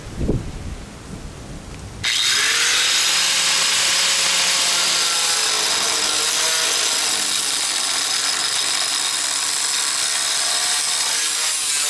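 After a short quiet lead-in, a power tool starts abruptly and screams on continuously and loudly, cutting excess metal off an E36 fender for a widebody kit on a drift car.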